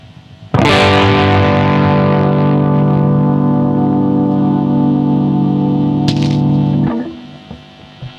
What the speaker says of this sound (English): That was no drive at all, no distortion.